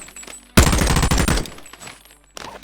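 Skeletonized M4A1 rifle fired one-handed in the Boneworks VR game: a single loud, rapid burst of automatic fire lasting about a second, then quiet, with another shot starting at the end.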